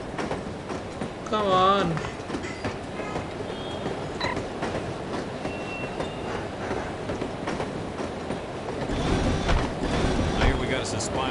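Train travel ambience from the video game No One Lives Forever: a steady rolling rumble with faint clacks and creaks running throughout, while voices talk over it.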